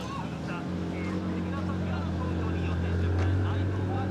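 A car passes at the Stancenation show in Japan, its low engine note swelling steadily over several seconds amid steady crowd noise and voices.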